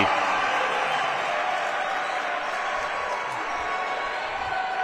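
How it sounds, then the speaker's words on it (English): A crowd in the Butcher Center roars steadily at a men's college basketball game, with a continuous broad wash of voices and a commentator talking over it. "The crowd roars in the Butcher Center."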